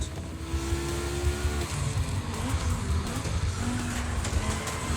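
Audi Quattro and Porsche 911 racing in The Crew Motorfest video game, with continuous engine roar and revving, rising gear pitches and gear changes, plus occasional tire noise, loud and steady throughout with no voices.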